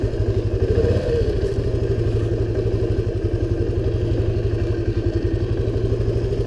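A 1978 Honda XL175 single-cylinder motorcycle is ridden, its engine thumping in a fast, steady pulse close by, with a slight rise in revs early on, alone without talk.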